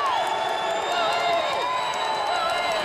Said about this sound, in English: Crowd coming back to life here in Chicago.